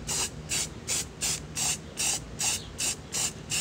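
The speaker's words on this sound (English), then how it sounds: "spray it with some self-etching primer" An aerosol spray can of self-etching primer hisses in about nine short, evenly spaced bursts, close up, with quiet pauses between each spray.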